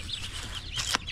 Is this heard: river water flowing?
no